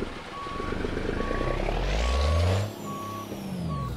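A truck's reversing alarm beeps at a steady interval in American Truck Simulator, with an engine rumble and a brief air-brake hiss in the middle.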